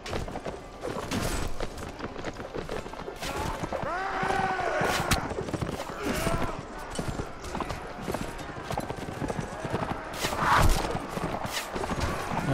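Horse hooves gallop in Mount & Blade: Warband, a steady clip-clop running the whole way under dense battle noise, with occasional whinnies and clashes rising over it.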